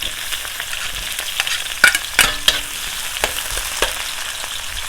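Garlic and onion frying in a pan, a steady low sizzle with a few sharper crackles and stirring scrapes near the middle, close and moderately loud with no talk.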